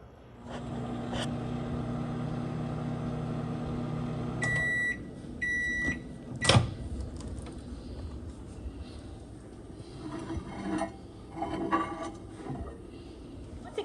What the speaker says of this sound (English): I'm going to put this in my microwave for approximately 60 seconds